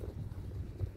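Strong wind gusting across an open field where flute kites are flown, heard as a steady low roar buffeting the microphone with brief surges, no voices.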